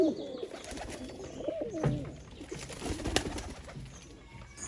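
Rajshahi Giribaj pigeons, a tumbling breed, coo close by in a loft, with low throaty rolling calls repeating and overlapping, along with light rustling and a few sharper clicks.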